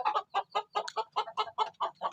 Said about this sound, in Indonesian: ayam ngorok itu